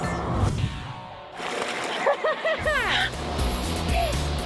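Splashing and sloshing water as a Galaxy S4 Active phone is carried into a swimming pool, a short cluster of splashes with chirpy squeaks partway through, with voices mixed into the scene.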